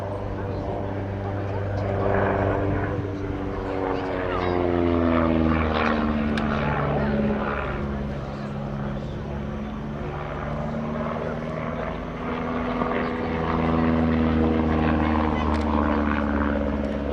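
A de Havilland Chipmunk, a former Cold War Berlin trainer, drones overhead at an airshow with a steady propeller engine hum that shifts slowly in pitch as it passes, while a commentator talks over it.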